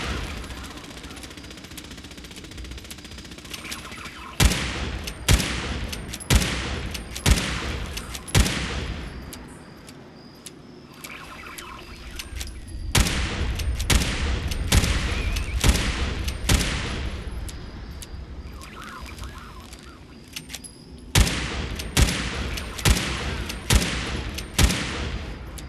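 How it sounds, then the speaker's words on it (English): Gunfire from the video game Fallout 4, Far Harbor content: repeated bursts of rapid shots in three clusters separated by quieter pauses with low rumbling ambience, loud and close. "We just keep shooting him."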